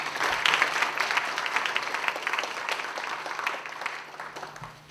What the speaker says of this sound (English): Now a round of applause for President Keyes